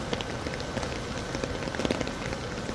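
Heavy rain pours down in a dense, steady hiss, drops drumming on a surface close by throughout, with no voices.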